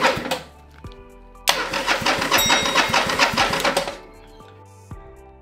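A motorcycle engine with no fuel or exhaust fitted turns over on its electric starter without firing, giving a close, steady run of rapid rhythmic cranking pulses for about two and a half seconds before stopping.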